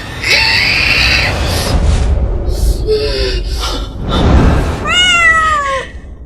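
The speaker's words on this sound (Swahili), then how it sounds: "Paka." A cat gives several loud, close meows with a strained, almost screaming edge, and the final cry is drawn out and wavering.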